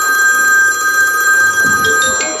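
A telephone rings steadily throughout, a continuous high electronic tone holding loud and close under a busy room background, with some clatter near the end.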